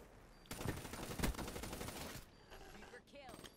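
Rapid automatic fire from a Vesper submachine gun in Black Ops 3, a dense loud burst of shots lasting under two seconds, followed by quieter scattered game sounds.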